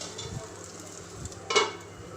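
An egg omelette with onion and tomato sizzles steadily in a pan, with a soft stir and a brief louder scrape or slap as it is flipped midway.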